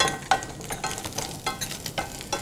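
Keema mixture seasoned with coriander powder and garam masala sizzles and fries in a pan, with stirring scrapes coming through in uneven bursts over a steady crackle, close and fairly loud with no talking.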